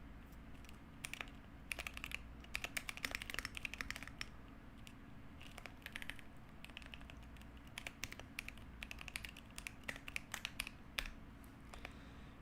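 Typing on a computer keyboard during a 3D C programming session: a steady, fairly quiet stream of rapid key clicks in irregular bursts, close to the microphone, with no talking.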